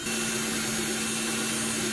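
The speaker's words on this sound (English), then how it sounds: "First, we drill a hole in the bottom of the bucket." A continuous whining drill bores a hole through the bottom of a plastic bucket at close range, loud and unbroken throughout.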